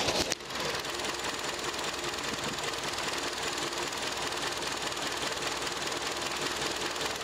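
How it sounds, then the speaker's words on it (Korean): Kia K5 2.0 Prestige with about 70,000 km idling: a steady, even mechanical hum and faint ticking heard with the hood area close by, constant throughout after a brief bump at the start. "네, 엔진 소음도 한번 들어보시도록 하겠습니다."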